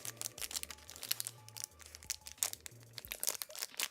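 A Cadbury original chocolate fish wrapper is opened up close, giving a run of quick, irregular crinkling and crackling bursts that keep going for several seconds with no talk over them.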